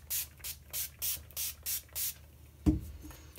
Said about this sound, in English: So if you've never used setting spray before, you spray in a circle and then in an X.